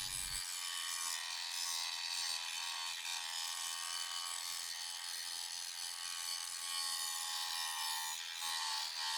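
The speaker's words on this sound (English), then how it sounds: "You can feel it right when you start that grinding" Steady, harsh high-pitched grinding noise from a RIDGID 18V OCTANE 7-inch brushless cordless angle grinder (R88040B) runs continuously at close range, a gritty abrasive whine with slight fluctuations and no talking.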